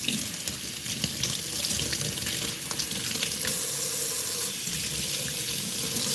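Water runs steadily from a kitchen tap for several seconds to wet a cleaning cloth, a close, continuous rushing splash with no voices.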